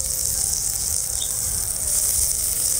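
Onion sizzles in hot oil in a pan for a peyajkoli vorta, a steady crackling hiss that runs throughout, close and moderately loud.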